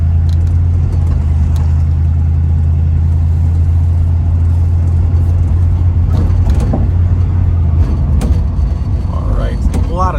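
A 1967 Ford Mustang with power steering cruising smoothly through traffic, a steady low engine drone and road rumble inside the cabin, with someone talking over it.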